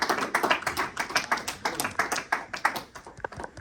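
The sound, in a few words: congregation applauding in church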